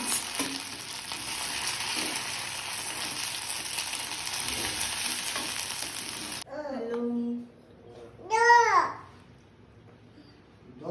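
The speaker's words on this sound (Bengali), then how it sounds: "আমাদের বড়াগুলো লাল লাল করে ভাজা হয়ে গেছে।" Chickpea dal fritters (bora) fry in hot oil with a busy, even sizzle and occasional stirring for about six seconds, then the frying cuts off and faint other sounds follow.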